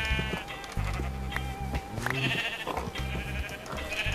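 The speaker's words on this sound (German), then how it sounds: "Und dann kann ich hier noch ein bisschen Schafe scheren, da ist ein schwarzes." Sheep in the game Minecraft bleat several times in short wavering calls over a steady background of music, with no talk.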